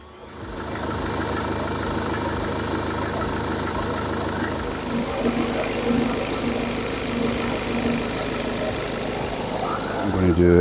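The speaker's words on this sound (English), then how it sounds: "the clutch on the compressor is engaged and the compressor is spinning, although it is short cycling." A Mini's air-conditioning compressor runs with the clutch engaged while short cycling, giving a steady mechanical drone beside the engine, with someone talking over it.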